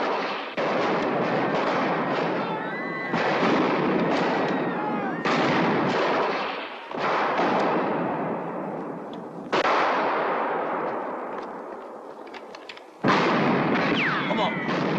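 Heavy gunfire in the 1964 western film Winnetou 2: loud volleys of rifle shots and blasts boom in repeated waves, each decaying before the next, with shouting voices mixed in.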